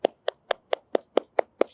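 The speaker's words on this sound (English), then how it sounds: "I can clap." Eight crisp hand claps land at an even, steady pace, each one close, dry and distinct. Nothing else is heard between them.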